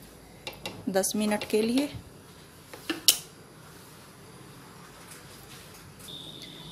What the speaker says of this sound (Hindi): ये देखिए, अब मैं इसको ढक के रख दूंगी